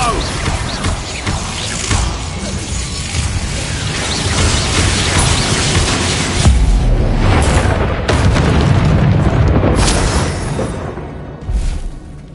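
Explosive spell blasts from Expulso and Bombarda in the video game Hogwarts Legacy, a dense run of loud booms and crashes over about twelve seconds with a heavy low rumble, one bigger blast midway and a final burst near the end, with a voice mixed in.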